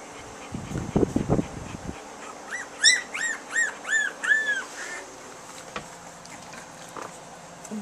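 Two-week-old puppies whimper in a run of high, rising-and-falling squeals, several in quick succession, close by, after some low shuffling noises.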